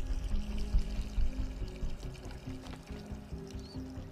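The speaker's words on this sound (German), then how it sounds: "Auch ein Mann muss mal Wasser lassen." A character urinating in Assassin's Creed 3: a steady stream of liquid splashing down for about four seconds, fairly close and continuous, with a low rumbling bed beneath it.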